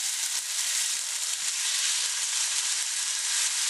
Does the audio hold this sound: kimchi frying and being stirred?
yes